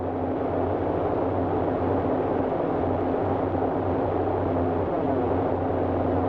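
Twin radial engines of a Boeing 247D propeller airliner in Microsoft Flight Simulator 2020 drone steadily in flight at cruise near 9,000 feet, a loud, unbroken hum with a throbbing low tone throughout.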